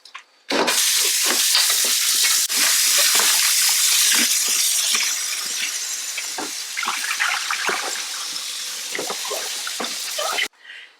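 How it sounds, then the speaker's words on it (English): Tap water runs steadily and loudly over a batch of cherries being washed in a sink, a dense rushing hiss broken by splashes and knocks as the fruit is moved about, then cut off abruptly. "Okay, let's get these washed first."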